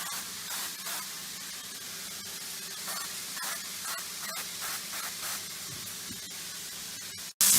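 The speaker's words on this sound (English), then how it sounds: "I'm going to first get my spray and spray the inside" A steady hiss of aerosol cooking spray onto the inside of a baking pan, sustained for several seconds with slight pulses, ending in a brief gap and a louder burst.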